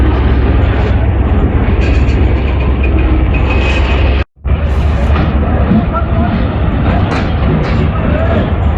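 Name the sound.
freight train with NLC locomotive passing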